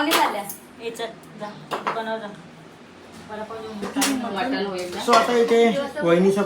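Dishes and pots being washed at a home during a family gathering, with scattered clinks and clatters of utensils beneath steady overlapping conversation.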